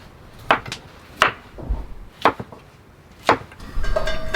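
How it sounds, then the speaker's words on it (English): A knife cuts a potato into small cubes on a board at a camp cooking setup, with four sharp, separate chops spaced about a second apart and softer handling noises between them. "So I'll just cut it into like little tiny cubes."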